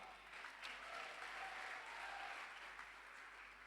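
A church congregation at a youth jamboree worship service claps in sustained, dense applause that stays even throughout with no voices standing out.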